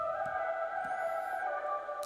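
Pitched vocal chop processed with distortion, wet reverb and EQ taming the harsh highs: a sustained, smeared tonal drone with a washy tail, held at moderate level with a faint high warble midway.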